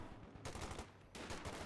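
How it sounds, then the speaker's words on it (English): Heavy .50 caliber machine gun firing in the Company of Heroes 2 battle game, two sustained bursts of rapid automatic fire separated by a brief pause, loud and close with no voices. "I hear the 50 cal here firing away."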